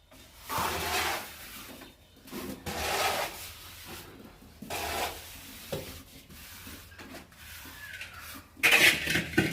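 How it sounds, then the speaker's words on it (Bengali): Float rasping back and forth over fresh plaster on a wall, repeated rough rubbing strokes with short pauses between them, close and fairly quiet, with no talk. "এখন সমান করে দিচ্ছি, পাটা মারবো"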